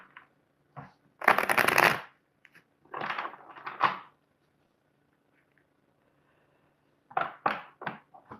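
Tarot cards are shuffled and pulled in a few close bursts: one long riffling shuffle, then shorter flicks and snaps, with quiet gaps between and no talking.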